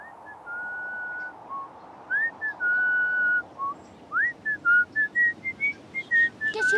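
A person whistles the March of San Lorenzo, a clear, loud melody of sustained notes followed by quicker short phrases, alone without talk.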